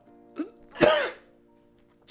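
A single sharp cough bursts out over a quiet background, preceded by a brief softer throat sound and followed by stillness.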